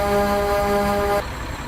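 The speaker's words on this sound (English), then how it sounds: "it's just one air horn" A loud, sustained truck air horn in American Truck Simulator on a Mack Anthem with Kriechbaum sounds blares steadily, then cuts off abruptly, leaving a low engine idle underneath.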